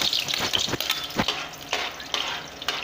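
Garlic sizzles in hot oil in a pan, a bright crackling hiss broken by stirring scrapes and clatter, close and continuous.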